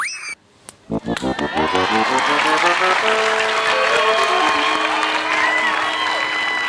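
A studio audience on a Thai variety show breaks into applause, starting with a few separate claps that quickly swell into dense, sustained clapping with cheering and whoops, loud and continuous to the end.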